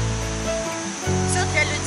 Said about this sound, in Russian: Очень популярный, очень оборудованный такой водопад.